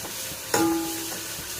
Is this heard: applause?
no